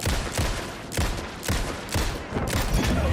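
Gunfire in the video game Alan Wake 2: a rapid series of loud, close shots at a steady rhythm, about six blasts in three seconds.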